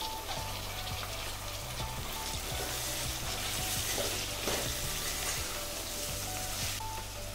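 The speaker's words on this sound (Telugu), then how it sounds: "ఇప్పుడు బంగాళదుంపలు వేసుకుందాం ముక్కలు" Potato pieces fry in hot oil with ginger-garlic paste for a hotel-style poori curry, giving a dense, continuous sizzle and crackle close by with occasional stirring scrapes and no voices.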